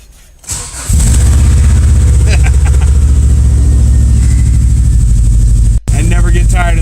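Subaru Outback cold start: a short starter crank, then the engine catches and settles into a loud, steady, fast idle with a strong low rumble, a momentary dropout near the end.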